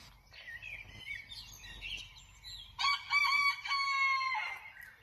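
A rooster crows repeatedly before dawn at 4:40 in the morning in Graz, loud and close, with a long, strong cock-a-doodle-doo rising out of fainter earlier calls.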